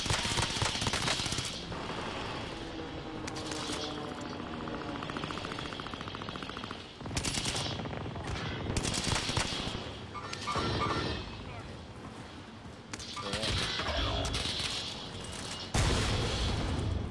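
Rapid automatic gunfire from SMG and assault rifle in the Call of Duty Warzone video game, with loud repeated bursts and dense sustained volleys throughout, mixed with a voice talking over the action.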